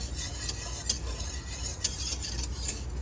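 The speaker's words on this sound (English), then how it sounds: "you got to keep on stirring it while it's on a rolling boil" Elderberry jelly at a rolling boil is stirred in a pot, a soft continuous bubbling hiss with periodic scraping strokes of the spoon against the pot, fairly quiet and with no talk.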